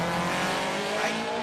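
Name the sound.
drag racing car launching off the line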